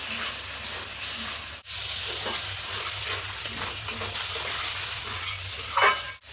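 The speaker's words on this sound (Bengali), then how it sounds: "টমেটো দিয়ে দেবো দিয়ে একটু কষিয়ে নেব" Tomato and capsicum frying in spice paste for a fish curry, giving a steady broad sizzle with occasional stirring scrapes throughout, close and alone without talk.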